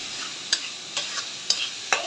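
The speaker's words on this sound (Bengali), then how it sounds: "পেঁয়াজ পাতা আর পেঁয়াজটি আমি ভালো করে নাড়াচাড়া দিয়ে এভাবে ভেজে নিব।" Chopped onions and spring onion leaves fry in a pan for a hilsa fish curry while a utensil stirs them, giving about five sharp scraping strokes at a steady pace over a soft, constant sizzle.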